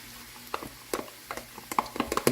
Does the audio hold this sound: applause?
no